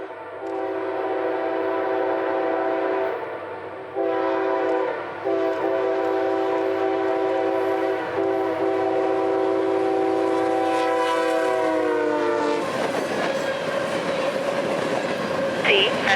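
A CSX freight train such as G310 on the M&M Subdivision sounds a long, loud chorded horn with several short breaks, then its roaring, clattering passage takes over near the end.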